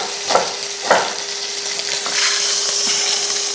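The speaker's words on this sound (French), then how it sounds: "Bien faire venir sur chaque face la souris d'agneau." A lamb shank sears in a hot pan with a steady, loud sizzle, broken by a couple of sharp clatters as the meat is turned early on. Nobody speaks.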